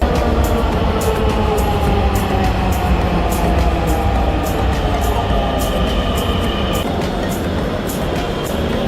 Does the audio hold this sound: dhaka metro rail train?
yes